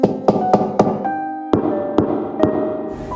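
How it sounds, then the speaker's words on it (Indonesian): Knocks on a boarding-house room door, a quick series of three sharp raps followed by a few slower spaced knocks over a sustained tonal music bed. "tiba-tiba ada yang mengetuk pintu kosannya"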